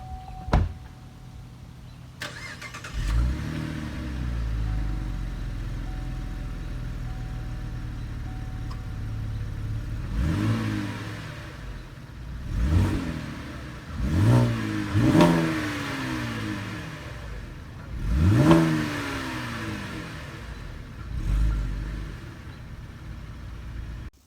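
A Cadillac CTS 3.6 liter V6 engine with over 300 horsepower cranks and starts, settles into a rumbling idle, then revs sharply several times in quick bursts before easing back down.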